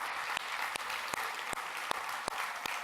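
Rhythmic clapping from a church congregation, sharp claps spaced about every third of a second over a steady crowd murmur, fairly loud and close.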